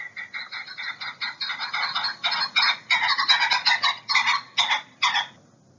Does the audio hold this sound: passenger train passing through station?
no